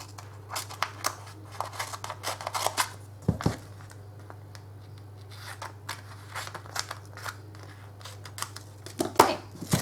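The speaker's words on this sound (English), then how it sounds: "I'm just going to go ahead and cut this off." Scissors snip through excess card stock during an intricate die-cutting craft project, a series of short crisp cuts spread across the clip over a steady low electrical hum, close and fairly quiet.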